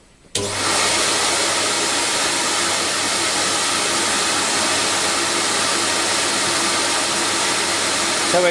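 CamVac CGV286 workshop dust extractor switches on abruptly, with two motors running and baffle tubes fitted, then holds a loud, steady, close roar to the end.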